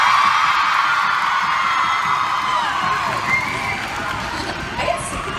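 A concert crowd at a tour show roars with sustained cheering and applause, a dense wall of voices holding steady throughout with a few whoops rising above it.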